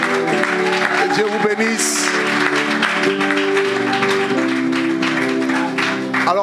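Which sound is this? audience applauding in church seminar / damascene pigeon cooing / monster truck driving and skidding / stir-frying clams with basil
audience applauding in church seminar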